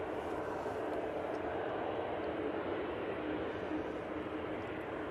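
An Aer Lingus A330 airliner roars at Manchester Airport, a loud steady broadband jet rush sustained throughout with no voices over it.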